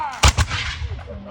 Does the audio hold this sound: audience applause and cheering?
no